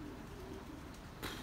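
Faint pigeons coo at a pigeon loft, with one soft, low, drawn-out coo heard through the background hum, followed by a brief rustle.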